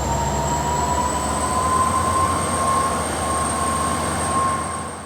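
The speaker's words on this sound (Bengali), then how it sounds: "6 নম্বর প্ল্যাটফর্ম দিয়ে থ্রু ট্রেন যাবে।" A through train passing a railway station platform, a loud continuous rumble of wheels on track with a high squealing tone running throughout, close by.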